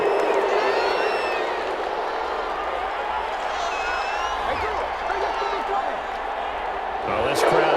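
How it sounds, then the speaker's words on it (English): Stadium crowd in the video game Madden 21 reacting to a penalty call, a steady wash of crowd noise with scattered cheering, heard alone with no talk, loud throughout. "this crowd does not like that call"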